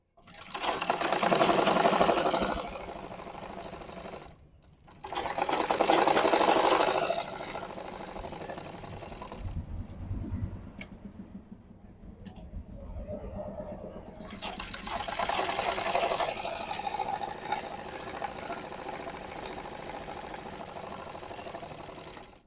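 Domestic sewing machine stitching fabric for a pair of pants, running in several loud, steady bursts of whirring mechanical stitching separated by short pauses, with quieter handling sounds between runs.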